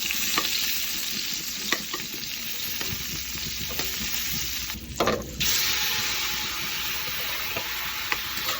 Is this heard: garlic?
yes